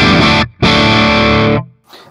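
Heavily distorted electric guitar run through an ENGL Cabloader IR pedal with a G12M25 Greenback speaker cabinet: two loud chugging chord bursts separated by a brief gap, then a quick fade.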